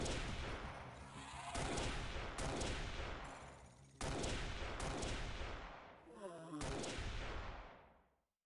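Boarding guns fire in the XPiratez strategy game as a series of loud, heavy gunfire bursts and booms, several distinct blasts in quick succession with brief gaps, then fading out at the end.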